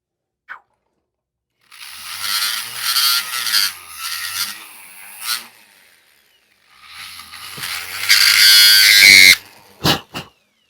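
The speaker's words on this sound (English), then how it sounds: "So let me get this one in the rotary tool, and we'll work with it a little bit." A rotary tool fitted with a burr bit grinds in two bursts of high-pitched whine with scratchy contact noise, separated by a short pause, then a couple of sharp clicks at the end.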